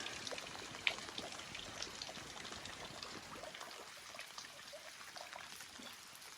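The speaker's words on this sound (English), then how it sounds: "How can it be raining so hard?" Steady sun-shower rain pattering down on a log cabin, a dense continuous hiss with scattered drips, easing slightly toward the end.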